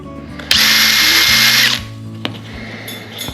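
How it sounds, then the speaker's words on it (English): A power drill whirs loudly for about a second, bites into a plastic skull, then winds down, followed by a sharp tap and quieter handling noises. "we're going to drill a hole in either side of our skull here"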